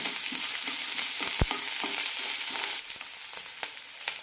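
Sliced onion and garlic sauté in a pan for capsicum chutney, a bright steady sizzle broken by the clack of a spatula stirring, with no voices.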